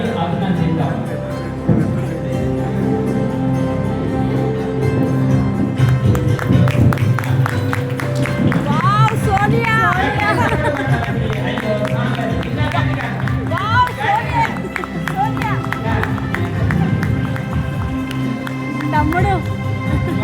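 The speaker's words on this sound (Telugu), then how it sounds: "మనమందరము శక్తున్నంత వరకు గట్టిగా చప్పట్లు కొట్టి వారిని అభినందిద్దాం" Wedding guests clap loudly and steadily for the whole stretch, mixed with lively crowd chatter, shouts and talk that rise and fall over the applause.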